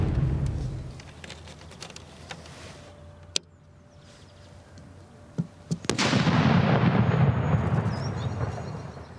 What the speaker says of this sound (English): the bang that comes off this, is going to be extraordinarily loud